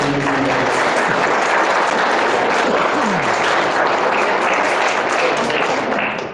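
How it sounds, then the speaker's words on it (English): Sustained audience applause at a candidate forum for county health services and museum district boards, a full, even wash of many hands clapping that holds steady for about six seconds, then begins tapering at the end. "Can we get a round of applause for all of our families?"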